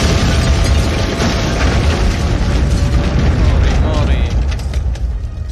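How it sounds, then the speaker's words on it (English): A loud, continuous roaring blast in a turn-based fantasy video game as a character casts a spell and explodes like a small bomb, a dense rumbling burst that holds steady for several seconds with a narrator's voice over it. "casts a spell which causes her to explode with the force of a miniature bomb"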